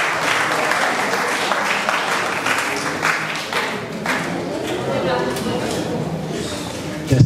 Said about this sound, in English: Shall we give him a big round of applause?